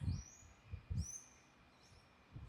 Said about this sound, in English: Right now you're hearing the birds.